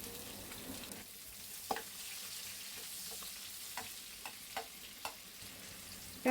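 Onion fries in hot oil alongside fried bitter gourd, a quiet, steady sizzle with occasional sharp stirring clicks and scrapes, close but soft, no voices.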